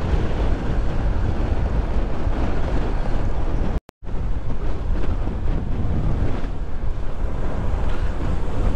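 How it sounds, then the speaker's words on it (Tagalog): Loud, strong wind roars continuously against the microphone on a mountaintop at Bessang Pass, cutting out abruptly for a moment before the heavy gusting resumes. "Kaya pala ganito kalakas ang hangin."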